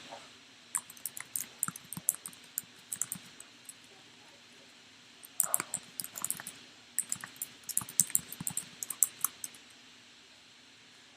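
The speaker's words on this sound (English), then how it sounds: "You can type things," Typing on a computer keyboard at a desk, with two bursts of quick, uneven key clicks separated by a quieter pause, heard close and alone.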